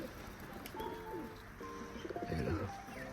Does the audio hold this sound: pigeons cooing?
yes